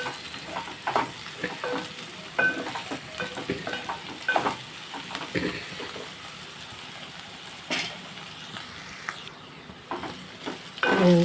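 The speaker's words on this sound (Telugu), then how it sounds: "కొబ్బరి కారం దొండకాయ ఫ్రై ఒక్క నిమిషం వేగితే" Ivy gourd pieces fry in a pan with coconut chili powder while a spoon stirs them. A soft, steady sizzle runs under repeated scraping and clinking stirs at close range, with no voices.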